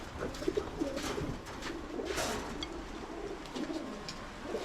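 Several pigeons coo softly and repeatedly nearby, their low throaty calls overlapping amid faint rustling and background noise.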